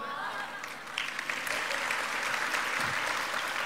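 Audience applause at a business presentation fills the room, a steady wash of many hands clapping that swells slightly and carries on throughout.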